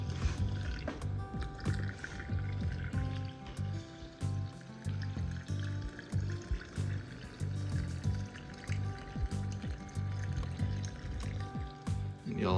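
Tap water pours steadily into a cold brew coffee maker, a continuous splashing gush with shifting pitch and gurgles as the vessel fills, going on for several seconds.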